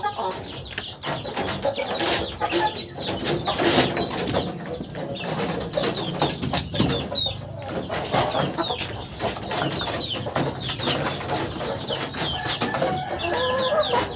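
Indio Gigante chickens cluck and chatter continuously nearby, with occasional wing flaps and bird calls, and a person speaks intermittently in the background.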